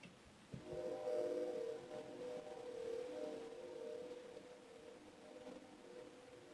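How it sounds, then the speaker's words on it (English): A loud, steady low rumble with droning tones swells in abruptly and holds, slowly easing off, like a train passing nearby. "I cannot believe that train is still so loud."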